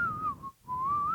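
A person whistles a single wavering, sustained tone, imitating a flute, that dips, breaks off briefly in the middle, then rises again, clear and close with no talking.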